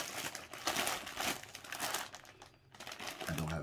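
Plastic snack wrapper from Puerto Rican treats crinkles and crackles close up in quick irregular bursts, fairly quiet and without speech.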